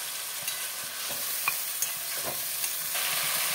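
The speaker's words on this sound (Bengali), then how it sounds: "অল্প জল দিয়ে মশলাগুলোকে কষাতে হবে।" Turmeric, ginger, garlic and green chilli paste with a little water frying in a pan for a mutton and potato curry, giving a continuous sizzle broken by repeated stirring scrapes, close and alone.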